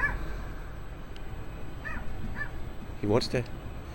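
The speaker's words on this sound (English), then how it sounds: "Let me show you this little puppy. He's barking away." A small puppy gives a few short, yappy barks close by, with indistinct voices and background noise running underneath.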